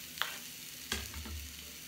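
Carrots tipped into a pot of dark-browned onions frying on high heat, giving a soft sizzle and a couple of sharp clatters as they land and get stirred, close and alone.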